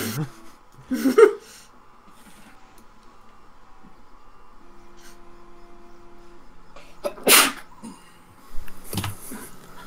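A sharp sneeze bursts out near the start, followed by a quiet electronic hum, then another short burst and a softer noise near the end.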